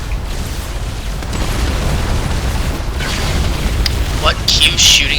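Units firing and explosions rumble in StarCraft II, a dense, continuous battle din with booming blasts and bright sharp effects near the end, with voices talking over it.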